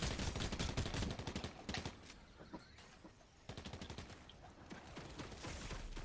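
Rapid turret gunfire in Fortnite, loud bursts of dense automatic shots with a short lull mid-way before the firing resumes, heard alone without talk.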